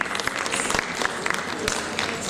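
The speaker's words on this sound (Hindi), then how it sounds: "कुछ कम तालियां हैं।" Audience applause for performers costumed as Krishna at a stage program: many hands clapping in a steady, moderately loud wash with a few sharper individual claps standing out, and no talking.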